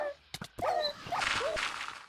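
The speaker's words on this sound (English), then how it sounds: "Giant dog." A giant dog in the Naruto ShinobiCraft video game lets out a few short yelping barks and whiny cries in quick succession, fairly close and clear over a soft game background.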